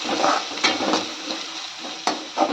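Turmeric, a piece of ginger and salt stirred into dal in a pot over a low flame, brief close scraping strokes with a couple of sharp spoon knocks against the rim.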